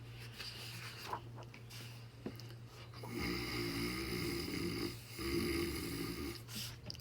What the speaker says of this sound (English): Herman's snoring attracted a lot of attention